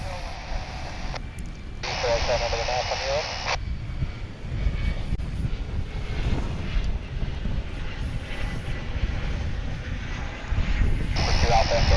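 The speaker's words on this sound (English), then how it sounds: "here comes the flight from Amarillo on Runway DFW" Airliner arriving on a runway at DFW International Airport, heard from outdoors as a steady distant engine roar. A live commentator talks over it, and brief high whines come and go.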